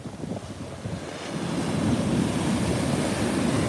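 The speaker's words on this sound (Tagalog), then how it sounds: "Grabe yung alon." Heavy ocean surf at Balboa, Newport Beach, roars continuously, waves breaking and washing in close by, with wind buffeting the microphone and no voices.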